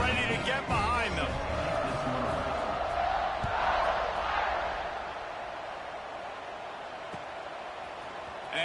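A large stadium crowd roars at a college football kickoff, Texas Tech against Notre Dame, a broad sustained swell of cheering and whooping that stays loud, then eases slightly toward the end.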